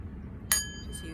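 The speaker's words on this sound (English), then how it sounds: "just use the sound bowl." A sound bowl is struck once, giving a bright ringing tone that hangs and slowly fades over a low background hum.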